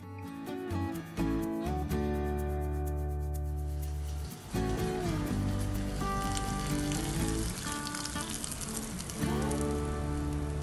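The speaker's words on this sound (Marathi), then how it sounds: "आता गॅस बंद करून आपण ही फोडणी दही साबुदाण्यावर घालूया." Hot tempering with green chillies is poured over curd-soaked sago, setting off a loud, continuous sizzling crackle that pops and hisses steadily for several seconds, with no talking over it.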